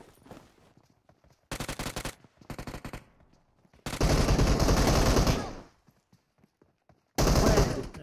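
Video game gunfire in loud automatic bursts, a short rattling volley, a few scattered shots, then a long sustained burst and a final rapid volley, close and dominant.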